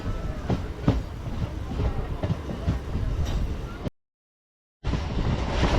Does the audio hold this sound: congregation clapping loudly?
no